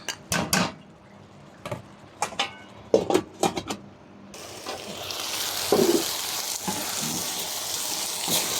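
Taro stolons cooking with jackfruit seeds in a pan: sharp utensil clanks and knocks first, then a sudden steady sizzling that continues to the end, close and moderately loud.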